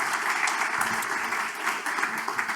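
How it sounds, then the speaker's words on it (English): Audience applause at a Big Irish Campfire gathering, a moderately loud, continuous patter of many hands clapping together. "let's have another round of applause"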